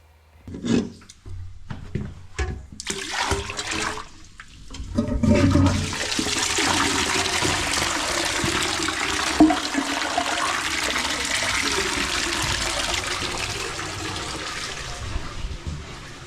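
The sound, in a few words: waste water poured down a toilet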